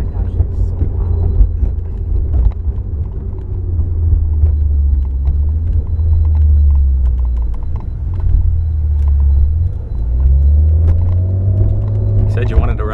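Deep, throbbing engine rumble from a Maserati Ghibli SQ4, loud and steady throughout with a few swells in pitch, while voices talk over it.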